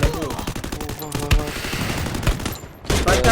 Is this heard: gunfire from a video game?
yes